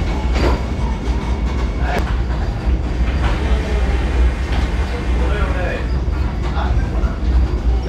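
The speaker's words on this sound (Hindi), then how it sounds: "हमारी ट्रेन मालदा टाउन स्टेशन से खुल गई है" Vande Bharat Express train running on the Howrah to New Jalpaiguri route after departing Malda Town station, a steady interior rumble with faint rail clicks throughout, while someone speaks over it.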